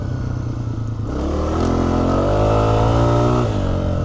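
A 2026 Honda CRF300F dirt bike revs up through the gears on a desert ride, its engine climbing in pitch, easing for a shift and pulling hard again, loud and close.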